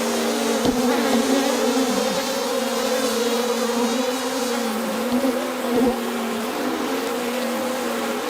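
Steady, dense buzzing of many honeybees, close and continuous throughout, with a few faint bumps but no voices.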